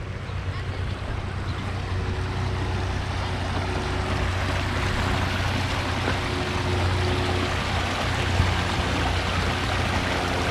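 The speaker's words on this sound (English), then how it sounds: "Listen to the water." Water flowing steadily in a park stream, a continuous broadband rush heard up close, with no pauses or distinct events.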